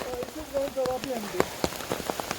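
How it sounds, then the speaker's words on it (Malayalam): Steady heavy rain patters densely on a surface in a village, with scattered sharper drops and a faint voice underneath. "നല്ല മഴയാണ്"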